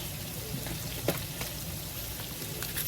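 Seasoned meat fries in a pan, with a continuous soft sizzle and scattered small pops and crackles at moderate loudness and no voices.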